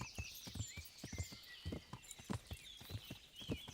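Horse hooves clip-clopping in the video game Kingdom Come: Deliverance, a steady walking rhythm of sharp, distinct hoof strikes with faint birdsong high above.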